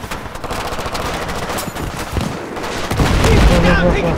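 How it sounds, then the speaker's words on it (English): Gunfire in Battlefield 3 during an ambush mission, rapid machine-gun bursts and scattered shots close by, building louder toward the end with voices talking over it. "Taking fire from the left!"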